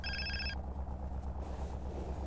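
A telephone rings in a video game with a short electronic trill that cuts off after about half a second, leaving a low engine-like hum and quiet ambience.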